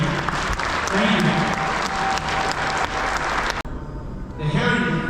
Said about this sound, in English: Let's get everybody in here a round of applause.